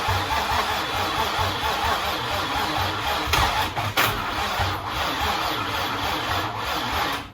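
A Nissan 350z engine after a motor swap cranks with a steady rough churning, running loud and continuous throughout, close up.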